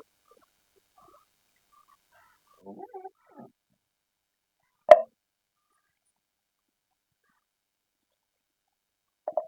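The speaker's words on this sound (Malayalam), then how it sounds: "ഇതുപോലത്തെ ഒരു കപ്പാണ് എടുത്ത് ഞാൻ അതിനകത്തേക്ക് നമുക്ക് ഈ പഴം ഇട്ട് കൊടുക്കാം" Banana pieces dropped one by one into a cup while making aval (flattened rice) milk: a few soft, close plops, then a sharper single thud, and another brief drop at the end, with quiet in between.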